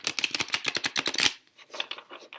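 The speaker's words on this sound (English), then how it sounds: "I hope the shuffling's not too loud." Tarot cards are shuffled in a quick, close run of crisp riffling flicks, then a few softer taps as the deck settles.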